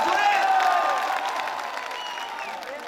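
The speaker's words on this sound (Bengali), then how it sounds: "আমরা সকলে মিলে একটি করতালির মাধ্যমে তাদেরকে ধন্যবাদ জানাই" A crowd at a live concert claps together in a sustained burst of applause that gradually tapers off, with a few voices mixed in.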